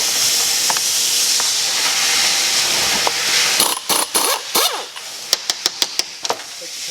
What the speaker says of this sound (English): Take the compressor wheel nut off.